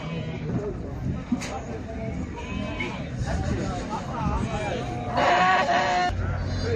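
Sheep bleating at a crowded outdoor sheep, goat and cattle market, with several calls rising over a steady babble of voices and people talking close by.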